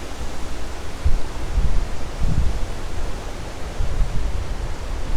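Hurricane Isaias winds sweeping through backyard trees as a steady broadband roar with rustling leaves and occasional low gusty thumps, continuous and fairly loud without speech.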